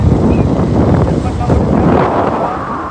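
Strong wind buffets the microphone on a fishing boat out on the water, a loud, steady low roar that eases slightly toward the end.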